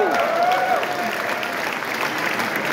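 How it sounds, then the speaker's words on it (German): A crowd applauds at a Grand March gala, producing continuous, dense clapping at moderate loudness with faint voices and a brief whistle-like tone near the start. "Wartet mit dem Applaus, bis ihr die Version hört."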